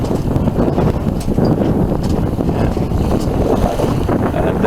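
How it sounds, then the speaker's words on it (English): Strong wind buffets a small sailing boat out on open water, a loud continuous rumble of gusts against the microphone with faint splashing beneath. "Oh, there's a bit of wind there."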